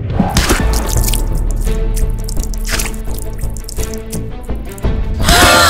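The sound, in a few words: water spilling onto a Dior dress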